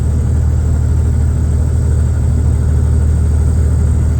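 A loud, steady truck engine drone with a low rumble and an odd noise from the side of the engine, running continuously without any change in pitch, in the Adelaide Hills.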